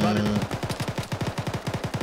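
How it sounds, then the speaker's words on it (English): Gunfire in the military video game Arma: a rapid automatic burst of evenly spaced shots rattles on for about two seconds and is fairly loud and near. "where are the shots coming from?"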